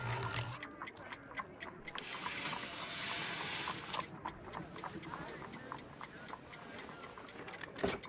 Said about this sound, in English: It's ticking.